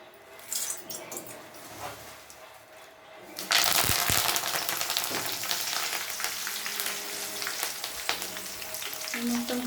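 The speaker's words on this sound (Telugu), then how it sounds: "ఈ కరివేపాకులు క్రిస్పీగా వచ్చేంత వరకు వేగించుకోవాలి" Curry leaves fry in hot oil until crisp: after about three seconds of quiet, a loud, dense crackling sizzle bursts in and holds steady to the end, with faint scattered pops.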